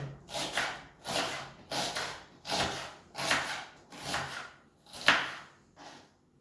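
A knife slices vegetables into thick rounds for a lamb tagine, about six steady, evenly spaced cuts. Each stroke is close and crisp against the board, with no talking.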